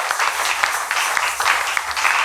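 A church congregation applauding together, a dense, steady wash of many hands clapping close by for about two seconds, with no voices rising above it.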